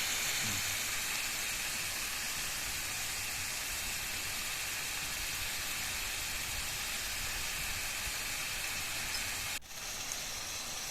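Garlic and ginger frying in hot oil for a star fruit dish, a steady close sizzling hiss running throughout with a brief dip near the end.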